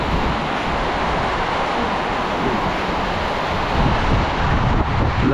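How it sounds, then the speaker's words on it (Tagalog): Strong, steady wind roaring through a Typhoon Tino storm, a broad continuous rush with buffeting gusts on the microphone that grow slightly louder toward the end, no voices. "ganun pa rin yung hangin, di ba?"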